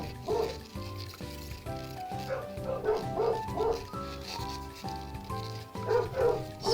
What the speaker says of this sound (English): My dogs are barking at the television.